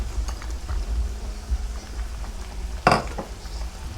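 Stirring chicken and mushroom cream sauce in a simmering pan, with soft scraping and a clatter of utensil against the pan, one sharp clink standing out near the end, close and moderately loud.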